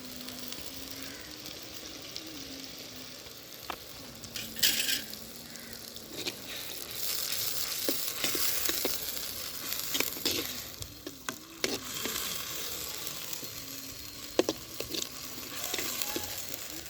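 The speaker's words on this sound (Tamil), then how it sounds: "மசாலா நல்லா எல்லா மசாலாவும் வதங்கி நல்லா எண்ணெய் பிரிஞ்சு வந்துருச்சு" Masala sizzles in oil in a clay mud pot for chicken biryani, with continuous frying crackle and repeated stirring scrapes and clacks of a spoon against the pot, close and moderately quiet, no speech.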